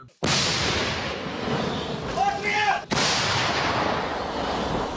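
A heavy artillery gun fires once at the front line in Ukraine with a sharp, deep boom that rolls on in a long reverberating rumble outdoors; a brief voice is heard between.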